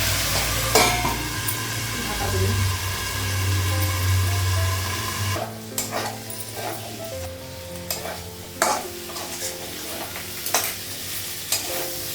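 Flat beans frying in a pan on a gas stove, with a steady sizzle under repeated scraping and clattering stirs from a spatula, several sharp knocks against the pan toward the end.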